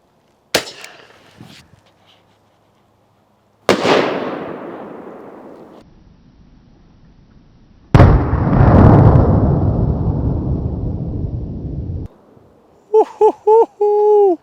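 A 37mm civilian grenade and flare launcher fires at an outdoor trade-show demonstration: sharp, heavy blasts with long rumbling tails ring out separately, followed by brief, high-pitched voices at the end.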